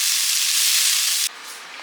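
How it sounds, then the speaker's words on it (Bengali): Boiled lentils with salt and turmeric frying in a pan, a loud, dense sizzling hiss that suddenly drops to a much quieter sizzle partway through, with no talking. "একটু ভাজা ভাজা হবে আর সেদ্ধ একটু জিরে গুঁড়ো আছে দিয়ে নামিয়ে নেবো"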